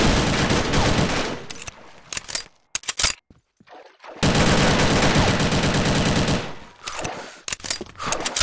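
Bursts of rapid automatic gunfire in a team-based first-person shooter match, loud sustained volleys broken by short gaps and a few isolated shots.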